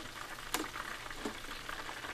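Steady crackling sizzle of shrimp tempura frying in hot oil in a skillet, a continuous hiss with a few sharper pops and a light scrape.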